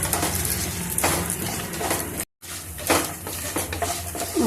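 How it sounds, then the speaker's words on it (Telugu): Chana dal, urad dal, cumin and dried red chillies frying in a pan for curry leaf pulihora, a busy close crackling sizzle with stirring and utensil taps, briefly cut off midway. "శనిగాయలు ఉద్దిగాయలు ఎండుమిర్చి అన్నీ బాగా వేయించుకున్నాము"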